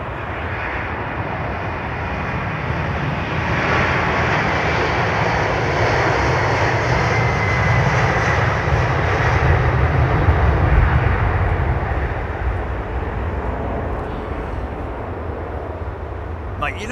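A jet departing runway 27R roars past close by, a loud broadband engine rumble that builds steadily, peaks around the middle and slowly fades, with faint voices underneath.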